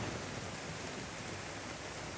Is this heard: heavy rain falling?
yes